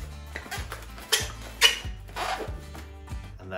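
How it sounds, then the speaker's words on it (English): Latex balloon rubber squeaks and rubs in short bursts as twisted balloons are folded and twisted together into a balloon dog, close and fairly loud, with no talking. "fold it in and twist the last two together"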